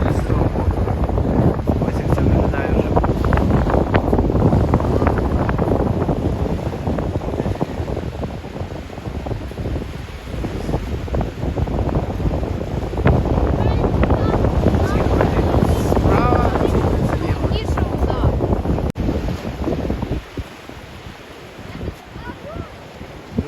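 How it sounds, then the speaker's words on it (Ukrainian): Rough sea waves off the northern Danish coast, where two seas meet, churn and collide in a loud, continuous foaming roar mixed with heavy wind buffeting, easing slightly near the end. "Тут видно, як хвилі стукаються одна об другу."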